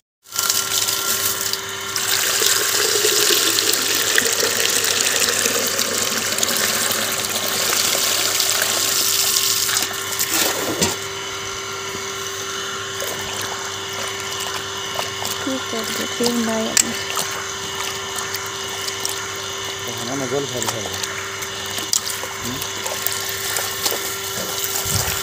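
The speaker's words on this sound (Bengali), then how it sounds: "মোটর চালিয়ে সমস্ত জামা কাপড়গুলো ধুয়ে কেচে নিলাম।" An electric water pump motor runs steadily while clothes are being washed, giving a continuous mechanical hum with water noise, and someone speaks briefly over it.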